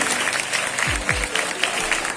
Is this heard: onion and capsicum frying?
no